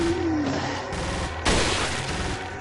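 Loud, dense gunfire in Resident Evil 4 fills the clip, with a sharp sniper rifle crack partway through standing out against a constant roar of shots and ambience.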